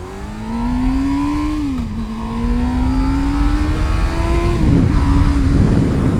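A 2011 Honda CBR 600 F sport motorcycle revs hard through its gears, engine note climbing steadily with two brief dips at the shifts, loud and close throughout with no talking.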